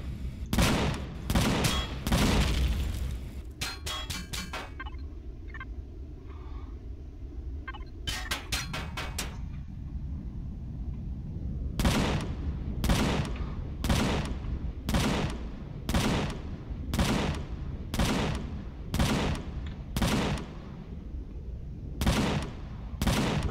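Distant gunfire in a video game: sharp, loud shots arriving in clusters at first, then spaced out at a steady rhythm with brief quiet gaps, with no talking.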